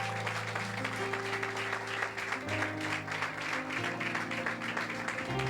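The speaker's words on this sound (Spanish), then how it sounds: "Entonces vamos a brindarle un aplauso a Dios por eso." A church congregation applauds steadily during a worship service, the sustained clapping blending with keyboard or organ chords played underneath throughout.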